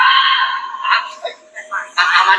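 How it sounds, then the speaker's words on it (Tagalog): A woman screams shrilly, a horror-style sound effect, in loud wavering bursts that rise and break off briefly before a final piercing cry. "May sumigaw na babae."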